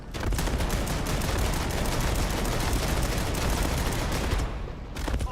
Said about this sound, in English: Try the shotgun again.